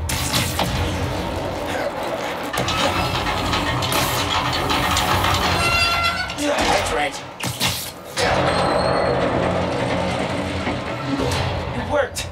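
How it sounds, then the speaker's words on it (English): A train rumbles along tracks in the video game Spider-Man: Miles Morales as a steady mechanical roar with clanks and a brief drop-out, running loud for the whole stretch, while a voice talks over parts of it. "Trains on the tracks."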